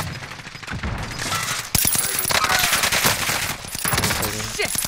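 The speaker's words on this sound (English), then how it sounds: "I'm taking fire!" Video game gunfire: a steady, crowded rattle of automatic shots and scattered cracks continues throughout at close range, with voices talking over it.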